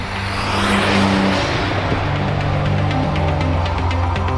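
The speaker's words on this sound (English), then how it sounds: "All I hear is that whistle and that whine of the turbo" A 1989 Nissan Skyline GTS-T's turbocharged RB20 engine runs loud and close, its turbo whistling and whining in a steady high-pitched stream over the engine drone.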